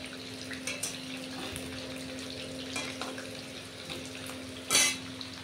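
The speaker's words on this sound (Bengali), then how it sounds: "এখানে দেখো জিরে তেজপাতা ফোড়ন দিয়ে তেলের মধ্যে টমেটোটা দিয়েছি আর নুন দিয়ে দিয়েছি" Tomato fries in hot oil tempered with cumin seeds and bay leaf, a continuous close sizzle with a steady hum beneath and a brief louder spatter near the end, no talk.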